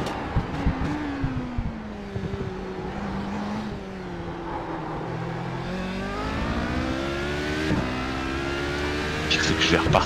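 Race car engine in the iRacing sim racing game near the end of a race, a steady droning whine that rises and falls through gear changes, with a voice talking over it.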